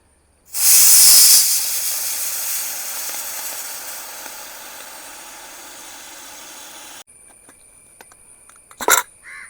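A sudden loud hiss of steam bursts out of a pressure cooker opened after four whistles, cooking fenugreek rice porridge, then gradually weakens into a steady fading rush, cut off abruptly; a short clatter follows near the end.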